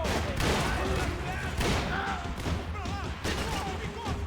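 Gunfire in the shooter Max Payne 3, a dense run of shots and thuds packed together under busy game sound and a talking voice.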